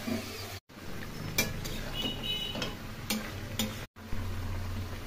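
A paste of cumin, coriander, chilli and tomato is stir-fried in a pan for pumpkin curry, soft sizzling under repeated scraping and clinks of a spoon against the pan, quiet and close, with two brief silent gaps.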